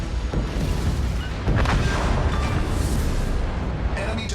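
In the World of Warships: Legends naval game, a sinking enemy destroyer sets off a dense, loud rumbling explosion with heavy low booming and crackling debris that holds steadily throughout, with a stronger surge about a third of the way in.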